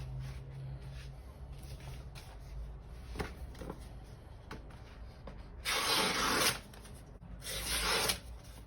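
A kitchen knife sharpened on a coarse whetstone, heard as steady rasping strokes with two louder, brighter grinding bursts near the end.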